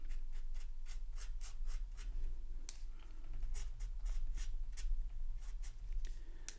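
An alcohol marker sketches coconut texture on paper in quick repeated short strokes, a rhythmic scratchy rubbing with a low hum beneath, close and quiet with no talking.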